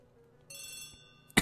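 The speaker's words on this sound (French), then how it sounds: "alors c'est le téléphone ou c'est la sonnette?" A brief electronic telephone bell rings for a moment, then a sharp, loud click cuts in, in the video game Agatha Christie: The ABC Murders.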